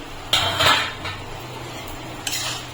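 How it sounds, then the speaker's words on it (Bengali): A metal pot lid is lifted off a pan of sweet chira (flattened rice) pulao during cooking, giving a couple of sharp clanks and scrapes, a louder pair near the start and another near the end, over quiet kitchen background. "2 মিনিট পরে আমি ঢাকা খুলে নিচ্ছি"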